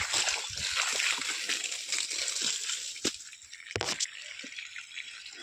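Water gushes from a farm borewell with a continuous splashing flow, broken by a few sharper splatters and sloshes, heard close and fairly loud.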